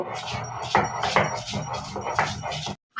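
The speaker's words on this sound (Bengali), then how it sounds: "এবার আমি অল্প অল্প করে বেটে নিব" Potol peel, kalo jeera and dried shrimp ground by hand on a stone slab, a rough repeated scraping and knocking rhythm with irregular thumps, close by, ending abruptly in silence.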